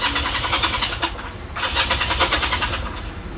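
Engine of a carbureted vehicle under repair cranking and catching, a loud, rough, continuous mechanical churn with a brief dip midway before it surges again.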